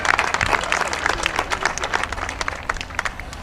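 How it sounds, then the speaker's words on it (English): Crowd applause at an AIDS charity 5K run and walk, a dense patter of many hands clapping steadily for a few seconds, fairly close and without speech over it. "So give yourselves a round of applause for being here"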